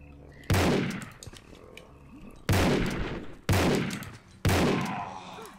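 Enemy gunmen firing in a Tomb Raider level, four loud, sharp gunshot blasts spaced a second or two apart, each ringing out with a decaying echo over a quiet background.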